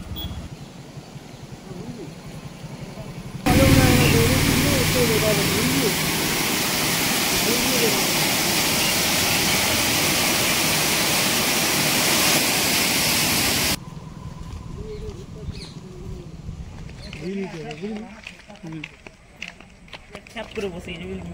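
Water pours through the dam gates at the Mukutmanipur reservoir on the Kangsabati river, a loud steady roar lasting about ten seconds that cuts off abruptly, with people talking before and after.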